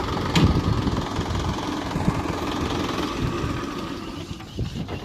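A tractor engine runs at idle nearby, chugging in a steady low rhythm with occasional knocks and rattles, and nobody speaks.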